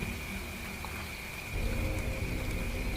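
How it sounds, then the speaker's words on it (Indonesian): Steady rain falls with a low rumble of thunder that swells and continues to the end, a dark storm atmosphere with no voices. "Suara gemuruh perlahan mulai menghilang."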